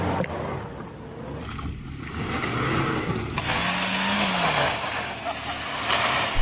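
A Suzuki Jimny climbing an off-road hill in a low, steady engine drone with slight revving rises, while someone speaks quietly over it.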